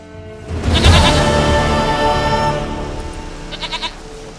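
Goat bleating in the video game The Witcher 3, a loud wavering bleat near the start trailing into a softer stuttering call toward the end, alone without talk.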